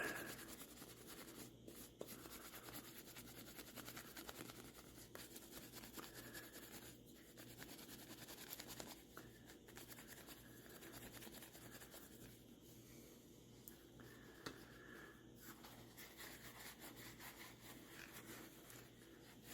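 An aluminum Western Boy Scout knife being hand-polished with a dab of Flitz polish, a faint, steady rubbing and scratching that continues throughout at close range, with no talk.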